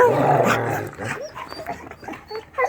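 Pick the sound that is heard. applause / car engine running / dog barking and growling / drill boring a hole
dog barking and growling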